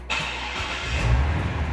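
A supercharged 2005 Corvette C6 fires up, a sharp starter catch followed by a deep, rumbling exhaust that swells and holds steady close by.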